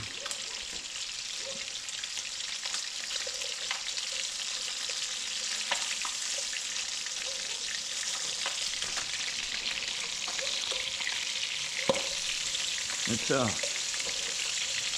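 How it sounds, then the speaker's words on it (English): Freshly caught redfish fries in a pan indoors with a loud, steady sizzle and splatter throughout, broken by occasional sharper pops and a brief clatter near the end. A voice speaks briefly. "splattering. You gotta be careful with the splats."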